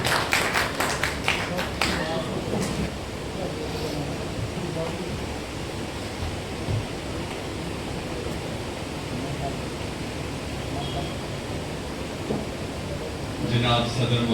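Audience applause at an all-India mushaira poetry recital, a dense sustained clapping that fills the hall steadily from start to finish, swelling slightly at the beginning and again near the end.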